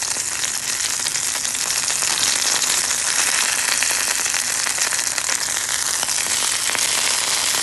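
Beef for birria tacos fries on a griddle, a dense, loud, unbroken sizzle with crackling spatter throughout, close up and with no voices.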